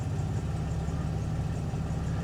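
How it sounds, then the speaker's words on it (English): A 1987 Jaguar engine idles steadily close by, a continuous low rumbling hum with an even, slightly uneven pulse and no voices over it. "You can see she's kind of idling right here a little bit."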